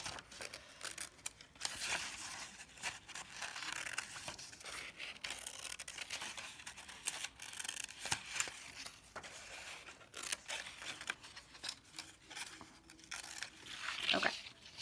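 Little scissors snip through paper for a school art project, with irregular soft cuts and paper crinkling, close and quiet with no talking.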